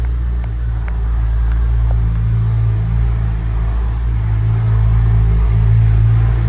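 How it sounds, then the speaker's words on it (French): A Porsche 997 starting up in a parking garage, a loud, deep, continuous engine rumble that swells slightly as it settles into a steady idle, heard close with no voices. "c'était le start-up d'une 997"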